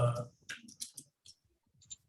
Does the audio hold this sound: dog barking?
no